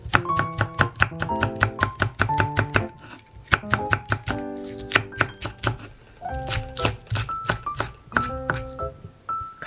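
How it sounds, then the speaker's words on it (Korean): A knife chops a large green onion on a cutting board in sharp, quick strokes, grouped in bursts with short pauses, close and loud with no talk. "대파 하나는 어슥어슥 썰어줄게요."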